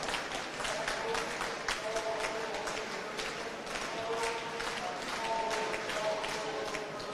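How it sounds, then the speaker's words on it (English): A crowd cheers and applauds a men's high jump clearance at an indoor athletics championship, a broad sustained roar with scattered clapping carrying from the far side of the arena, heard alone without commentary. "he gets a great cheer from the crowd on the far side there"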